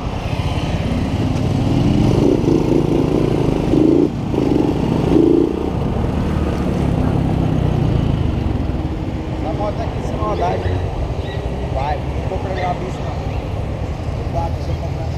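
A Honda Titan 125 motorcycle engine revs hard and steadily in fifth gear, loud and close, with the pitch holding high, a brief dip near the middle and a slight drop toward the end.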